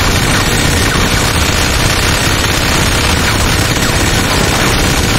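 Relentless automatic gunfire in the video game GTA 5, a dense, loud barrage of rapid shots with no pauses, blending into a continuous roar.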